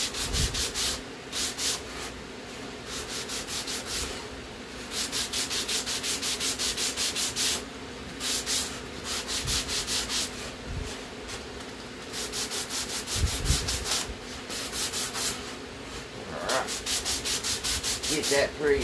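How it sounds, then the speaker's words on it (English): Sandpaper rubs back and forth over wood by hand in quick, steady strokes, each pass a raspy scratch, in several bursts with short pauses between; close and clear, with no voices. "Get that pretty well sanded"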